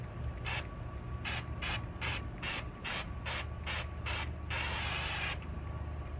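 A Homax Orange Peel wall texture spray can fires in rapid rhythmic high-pressure bursts, about a dozen short hissing spurts followed by one longer continuous spray, close and loud with no talking.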